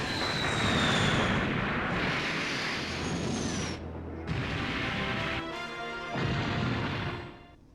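Missile attack explosions in the Super Robot Wars OG video game sound as a continuous, loud, rumbling barrage of blasts and crashes with brief pauses, then fade out at the end.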